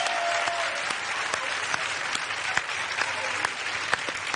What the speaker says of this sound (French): On les applaudit, mesdames, messieurs, oui.